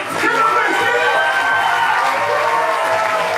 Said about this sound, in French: S'il vous plaît, applaudissez Fabien Racine, deuxième secondaire.